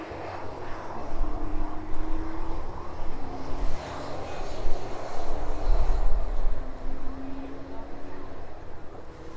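A Jet2 airliner rolls out along the runway after landing, a broad steady roar with engine drone and faint whine holding through the stretch, heard from a distance with a voice talking over it.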